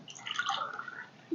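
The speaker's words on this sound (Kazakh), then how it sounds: "Ал енді мен салқын су құйып аламын." Cold water pours into a dish-washing basin, a short, faint and steady trickle with small drips and no talk.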